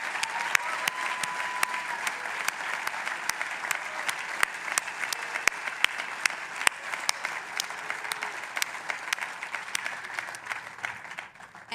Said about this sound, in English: Let's applaud everyone here, okay?